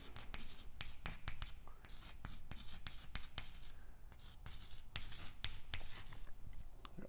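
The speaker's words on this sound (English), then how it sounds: "let's write what mobility can do for you" Close, quiet pen writing with scratchy, irregular strokes and taps, heard under soft background noise.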